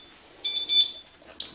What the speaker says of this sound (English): my time's almost up timer for YouTube